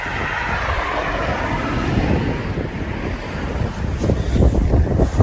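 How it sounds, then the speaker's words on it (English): Strong wind buffets the microphone beside a tiny stream at a coarse fishing spot, a loud, continuous rumble that surges and grows gustier toward the end. "it's quite windy today"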